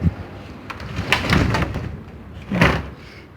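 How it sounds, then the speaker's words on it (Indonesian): A house door pulled shut during strong morning wind, with a couple of thuds and knocks from the door amid gusty rustling, fairly close. "Pintu udah saya tutup, guys."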